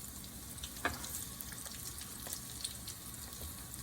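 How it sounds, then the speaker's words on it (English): Whole okra coated in grated cheese and breadcrumbs fries in oil, a faint, steady crackling hiss with a few light pops, heard close and alone. "Okra, coat it with grated cheese and breadcrumbs to the oil."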